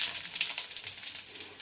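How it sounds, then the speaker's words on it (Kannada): A spoonful of cumin seeds crackles and sizzles in hot oil, a close, bright, fizzing spatter that carries on steadily for a moment. "ಇಷ್ಟು ಎಣ್ಣೆ ಕಾದಿದೆ. ಈಗ 1 ಸ್ಪೂನಷ್ಟು ಜೀರಿಗೆ ಹಾಕಕತ್ತೀನಿ."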